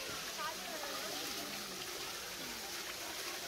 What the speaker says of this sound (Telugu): నిరంతరంగా వాటర్ ఎప్పుడు వస్తూనే ఉంటాయి ఇక్కడ నుంచి